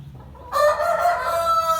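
A Sultan rooster crows loudly and close, one sustained cock-a-doodle-doo call after a brief quiet start, bright and strained.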